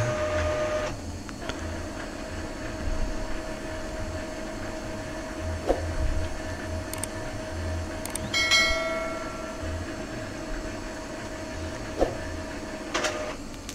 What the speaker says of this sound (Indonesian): printer sudah melakukan pencetakan